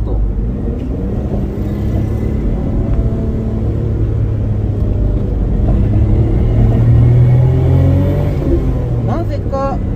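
A first-generation Suzuki Alto Works CA72V's small engine revs up and holds, a loud continuous rumbling drone that rises and swells toward the end, with someone talking over it.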